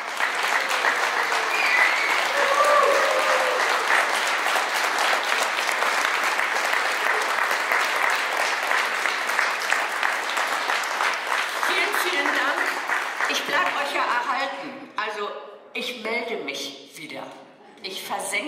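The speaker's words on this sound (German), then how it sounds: "nochmal einen riesen Applaus bitte" A crowd at a benefit art auction breaks into long, sustained applause that stays loud for several seconds before thinning out into scattered claps near the end.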